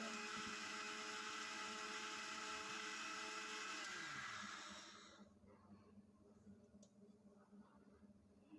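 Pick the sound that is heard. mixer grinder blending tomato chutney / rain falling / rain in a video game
mixer grinder blending tomato chutney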